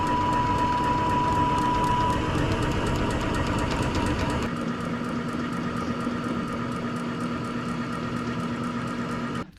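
A honey extractor spins honey frames with a steady mechanical whir and hum, loud and continuous throughout, its pitch and intensity dropping partway through as the spin slows.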